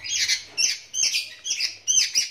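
A young sooty-headed bulbul chick, about 35 days old and kept in a cage, gives four repeated high chirping calls in quick succession, close and fairly loud with no other sounds.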